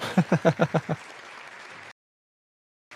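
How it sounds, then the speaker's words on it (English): Applause after an Ariane 6 rocket launch: a few loud, evenly spaced claps at the start give way to a sustained wash of clapping from a room of people, which cuts off abruptly and briefly returns at the end. "More applause."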